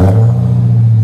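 Supercharged 6.2L Hemi V8 in a Dodge Charger Hellcat roars through a modified exhaust, a loud, steady deep rumble held close up for about a second with no talk.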